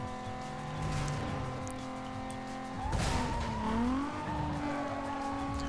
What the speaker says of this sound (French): le son des voitures sont plutôt bien faits aussi